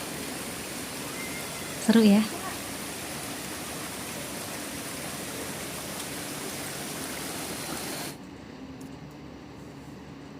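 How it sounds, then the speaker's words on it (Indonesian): A small stream flows beside a muddy hiking trail in hilly terrain, its steady watery hiss running under a brief spoken remark before dropping quieter near the end. "kita ngelewati sungai lagi nih"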